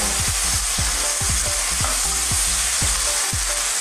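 Pork liver frying in a pan for Filipino menudo, a loud, dense, continuous sizzle with repeated scraping stirs close up, and no talk.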